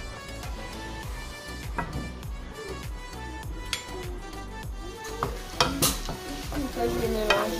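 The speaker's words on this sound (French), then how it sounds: "Je vais mélanger. Je vais laisser cuire un peu." Food stirred in a frying pan during home cooking, with a steady close sizzle under repeated scraping strokes of a utensil against the pan and occasional louder clinks.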